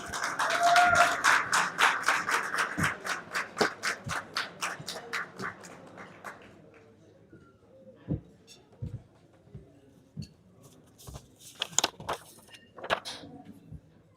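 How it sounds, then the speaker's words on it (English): An audience at an annual awards night and gala dinner gives a rhythmic, unified round of applause that is loud at first, then fades into scattered individual claps and a few sharp late taps. "Please welcome him with a huge round of applause"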